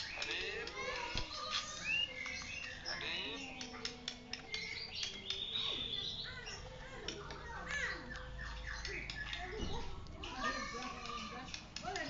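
A four-month-old murai batu (white-rumped shama) of Bahorok origin gives chirps and short calls at moderate distance, mixed with other birds and ambient noise while a person talks nearby.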